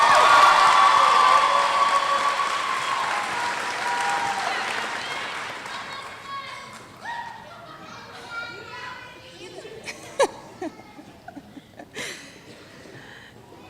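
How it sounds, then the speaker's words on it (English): Audience applause at a middle college graduation ceremony, loud clapping with cheers that fades after about six seconds into scattered claps, shouts and voices. "Please give them a round of applause."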